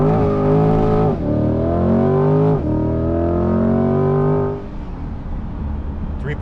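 A Corvette accelerates hard without a launch, its loud, close engine note climbing steadily through two gear changes before easing off to a lower drone.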